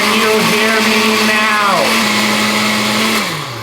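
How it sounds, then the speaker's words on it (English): A kitchen blender runs loud and steady, blending homemade salsa ingredients with cilantro, its motor pitch dipping and shifting as the load changes, with a voice talking over it. "Blend a little bit of this cilantro into this as well."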